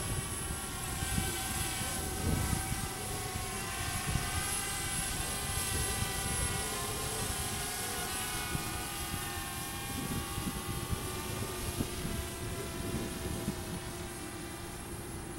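A DJI Spark drone flies outdoors on its first outside flight, its propellers giving a steady high-pitched whine with layered buzzing tones, faint and continuous over light background noise.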